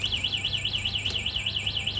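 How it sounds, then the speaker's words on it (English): Anti-theft alarm of a DYU A1F foldable electric bike wails in a steady, warbling siren that rises and falls rhythmically several times per second, moderately loud and alone. "There is the additional alarm and lock for deterring unwanted users"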